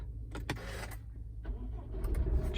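A 2015 Honda CR-V with a 1.6 diesel engine, 4x4 and manual gearbox, starts up with a few short whirring starter clicks and then settles into a low, close idle rumble.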